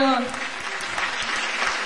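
Audience applause for the Little Angels performers, a short burst of clapping that follows a voice trailing off at the start.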